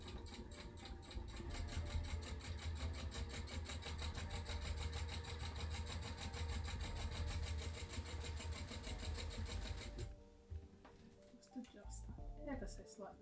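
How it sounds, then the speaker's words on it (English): A sewing machine top stitching a fabric project pouch runs as a steady mechanical hum with rapid needle chatter for about ten seconds, then stops into quieter handling noises, with a voice talking over it. "And again we're just going to top stitch this in place."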